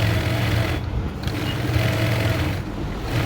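A sewing machine stitches an embroidery bud design with a steady, continuous mechanical whir and brief pauses, close but fairly quiet.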